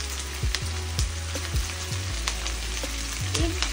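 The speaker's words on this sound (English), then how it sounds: "First, you put some oil, then you get your onions, then you put it in." Onions frying in oil in a pan, a steady close sizzle with repeated stirring scrapes and clinks at an uneven rhythm, with no talking.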